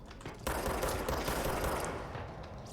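Sustained automatic gunfire in the video game Control, a dense, loud stream of rapid shots starting abruptly and rattling on steadily for over two seconds with no talking.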